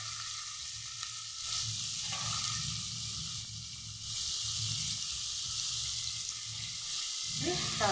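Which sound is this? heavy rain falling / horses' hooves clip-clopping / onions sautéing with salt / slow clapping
onions sautéing with salt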